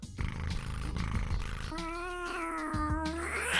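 A voice imitates a grumpy cat, giving a drawn-out, harmonic meow-like wail that rises into a strained, roaring whine over a muffled background, loud and close.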